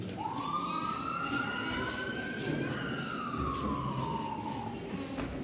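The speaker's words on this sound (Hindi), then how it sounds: "फिर उसी समय उसको एक एम्बुलेंस की आवाज सुनाई देती है।" An ambulance siren passes with one long wail that rises, holds and slowly falls as the vehicle goes by, loud and steady over road rumble.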